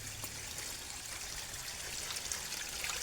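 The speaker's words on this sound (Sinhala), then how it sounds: "මේ වතුර ගලනවා." Water flowing along a stream in rainy weather, a steady close rush of trickling and pouring with no voices.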